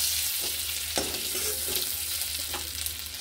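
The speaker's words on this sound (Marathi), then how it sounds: "जरा चांगलं फ्राय करून घेऊया आपण. जरा डाग पडेपर्यंत फ्राय करूया." Boiled eggs frying in oil in a pan until spotted brown, a soft continuous sizzle with a few sharp stirring knocks, close and alone with no talk.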